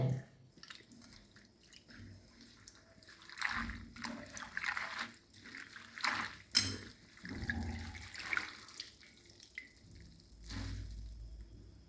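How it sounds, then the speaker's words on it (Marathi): Water splashing and dripping in bursts as green chillies and garlic are rinsed by hand, with intermittent sloshing and quiet handling sounds between. "हिरव्या मिरच्या आणि लसूण दोन्ही पण धुवून घ्यायचं आहे"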